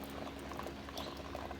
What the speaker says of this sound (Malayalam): എല്ലായിടത്തും മഴത്തുള്ളികൾ മാത്രമേ ഉള്ളൂ.